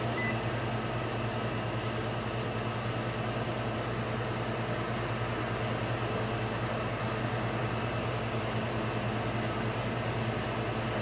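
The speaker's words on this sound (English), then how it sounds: "Turn on the vent." A kitchen stove vent fan runs with a steady, even whoosh and low hum that holds constant throughout, close and fairly loud, with no voices.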